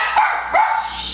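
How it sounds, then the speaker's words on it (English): A corgi barks twice in quick succession, loud and close, with short sharp yaps and nothing else around them. "Tell him not to bark."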